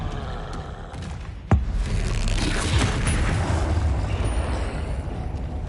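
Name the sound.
Expelliarmus spell cast in Hogwarts Legacy video game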